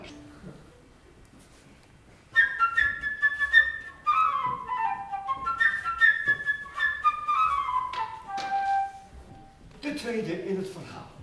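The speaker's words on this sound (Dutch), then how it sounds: "Dus het vogeltje wordt gespeeld door de fluit" A flute plays the bird theme from Prokofiev's Peter and the Wolf, performed by a youth orchestra: a bright, fluttering melody of quick rising and falling runs, with a voice speaking briefly at the start and end.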